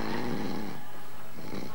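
A man on an Italian television game show imitates deep snoring, a single drawn-out rasping snore lasting under two seconds, fairly loud and close, with no other talk.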